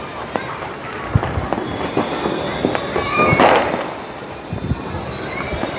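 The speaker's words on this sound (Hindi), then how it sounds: "दूर से आपको पटाखों की आवाज़," Firecrackers and fireworks pop and crackle in scattered bursts during a Mawlid celebration, most of them faint and far off, with a fuller flurry near the middle.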